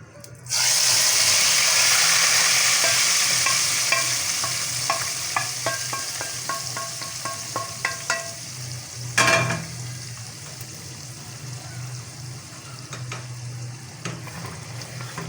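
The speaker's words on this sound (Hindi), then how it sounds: "अब इसको ऑयल को ज़ीरा और तेज़ पत्ते वाला इसको हम इसमें ऐड कर देंगे।" Hot oil tempered with cumin seeds and bay leaves hits a yogurt-gram flour beef curry with a sudden loud sizzling burst that slowly fades into a softer crackle, broken by rapid spoon-scraping clicks, with no talking.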